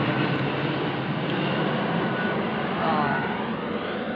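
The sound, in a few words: airplane flying over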